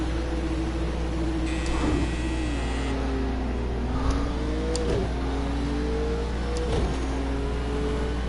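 Race car engine in a PS4 racing game, a steady drone with several rising and falling rev sweeps as the car runs in traffic, loud and continuous with no talk.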